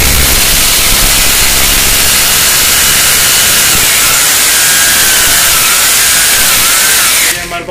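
A 600-watt Imax brand hammer drill bores into a wall with a loud, harsh, continuous whine and grinding roar that holds steady, then cuts off abruptly near the end.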